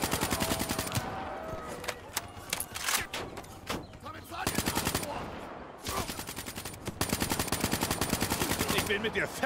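Rapid gunfire bursts from the video game Call of Duty: Black Ops 3, loud and repeated in dense volleys with brief gaps, mixed with game voices speaking.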